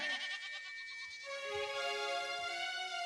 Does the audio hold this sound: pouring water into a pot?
no